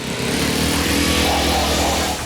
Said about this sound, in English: what the hell was that lawnmower?